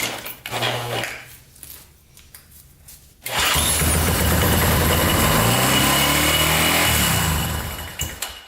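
A Yamaha Warrior 350 ATV engine, primed with gas down the carburetor, cranks and catches suddenly, then settles into a loud, steady close-up idle that runs for several seconds before tapering slightly.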